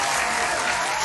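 A short burst of dense clapping from a group, steady and fairly loud.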